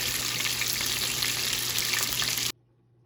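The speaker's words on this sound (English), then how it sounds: "I put a little oil in the pan, and I'm searing it" Chuck roast seasoned with garlic powder, onion powder, salt and pepper sears in a little hot oil in a pan, giving a loud, steady broadband sizzle that cuts off abruptly near the end.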